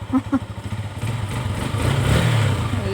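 A GEON Pantera motorcycle engine cranks with a couple of short sputters, then catches and settles into a steady, close, mid-pitched running note with a slight rise in revs.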